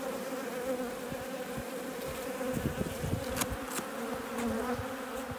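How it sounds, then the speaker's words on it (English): Honeybees on hive frames from a cell-builder colony hum in a continuous, close, steady buzz with faint handling taps, no talking. "I'm going to shake a few more bees off those frames first"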